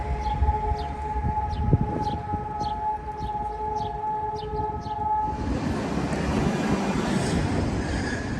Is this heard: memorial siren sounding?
yes